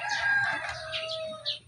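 Penned chickens at a Filipino backyard farm crow and cluck together, a rooster's drawn-out call over softer hen chatter, moderately close over a low steady background hum.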